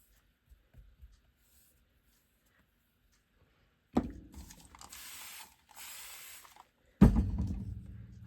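A hand spray bottle mists paper in two close, crisp bursts of hissing spray, each opened by the trigger's sharp mechanical click, following a quiet stretch with a few soft taps.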